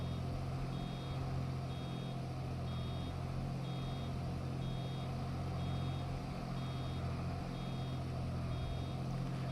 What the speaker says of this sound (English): These beeps are the sort of sounds what will stick in your head forever.